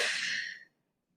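A single forceful breath out during an upper-body workout exercise, close and breathy, fading away after about half a second into silence.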